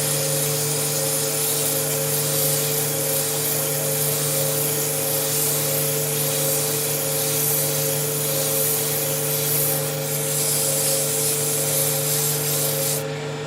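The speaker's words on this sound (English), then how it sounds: "We'll do a little more sanding as we get further down." A turned wood piece is sanded with 180-grit paper on a running lathe, producing a steady, continuous rubbing hiss over the lathe's constant motor hum for the whole stretch, with no talk.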